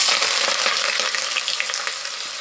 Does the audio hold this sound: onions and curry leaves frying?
yes